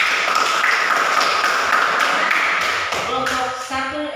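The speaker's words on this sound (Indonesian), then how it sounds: "beri aplaus untuk kelompok 1 dulu" Classroom applause for a student group, a brisk run of many hands clapping that fades out as scattered voices and chatter take over at the end.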